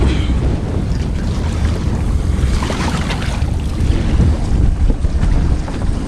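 A Savage Gannet 435 Widebody boat skipping along over water at a sensible speed, a loud, continuous rush of water and hull noise mixed with heavy wind buffeting on the microphone.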